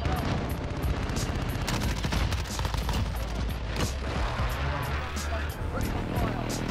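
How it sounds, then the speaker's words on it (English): Rapid gunfire bursts from the video game Modern Warfare, played on very low graphics settings, with dense overlapping shots and booms filling the scene under constant game noise. "What is shooting at me?"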